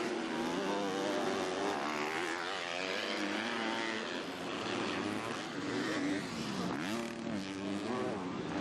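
MX2 motocross bikes, including a KTM, race at the Faenza MXGP, engines wailing loud and close as they rev and shift through rising and falling pitch, with a commentator speaking over them.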